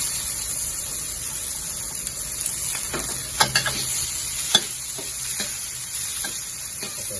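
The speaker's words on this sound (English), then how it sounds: "Put in all your garlic," Garlic, big onion and mixed beans fry in oil, giving a steady close sizzle with occasional scraping clicks of stirring for a Hainanese pork chop sauce.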